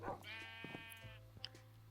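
A pink sheep in a Minecraft-style server game bleats once in a drawn-out, wavering cry, moderately clear over a steady low background hum.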